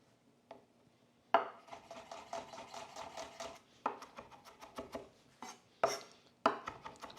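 A knife minces three garlic cloves on a cutting board, a close series of quick irregular chopping taps in bursts, loud and sharp against a quiet kitchen with no talking.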